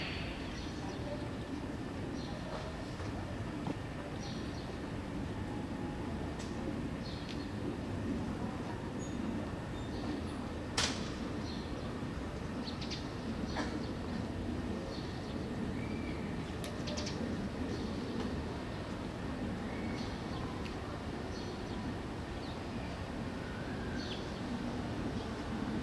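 A Joban Line train rumbles into Shin-Matsudo station on a weekday morning, a steady low roar lasting throughout, with faint clanks, pigeons cooing and platform announcements under it.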